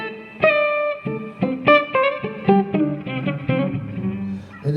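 Electric guitar picking a melody in octaves, two notes sounding together on each attack, with a bright, slightly effected tone; a steady run of plucked notes, close and alone.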